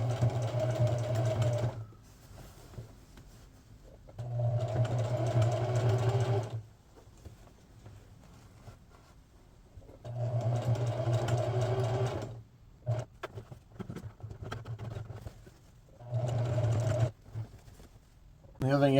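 A sewing machine stitching a patch onto a heavy, thick Adidas Adizero jersey, running in loud humming bursts of a few seconds separated by pauses and short stop-start taps.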